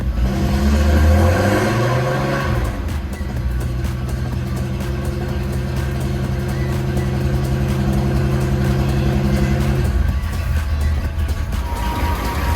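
A Nissan Skyline Hakosuka engine idling on a cold Texas morning, a loud steady low rumble that briefly rises and falls early on, then settles into an even idle.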